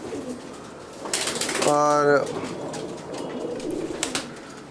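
A Madrasi pigeon gives a close, brief rolling coo in the middle, with softer cooing around it and someone speaking over it.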